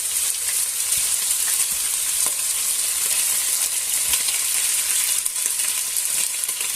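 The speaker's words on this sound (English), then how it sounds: "once the oil is hot, or hottish, I'll add the ribs in" Pork ribs frying in hot oil in a pan, a loud, steady hiss of sizzling with scattered crackles and pops, continuous throughout without speech.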